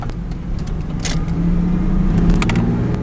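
2001 Ford Mustang 3.8 V6 with a misfire, driving in first gear: a low, steady engine hum heard from inside the car, rising slightly in pitch, with a few light rattles and clicks over it.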